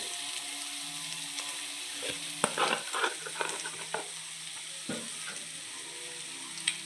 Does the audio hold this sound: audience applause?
no